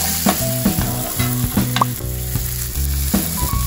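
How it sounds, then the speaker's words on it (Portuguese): Onion and leek sizzle steadily in a frying pan, a continuous bright crackle with occasional stirring scrapes, close and moderately loud, with no one speaking. "Eu vou dar só um sustinho na cebola e no alho poró aqui no, na frigideira"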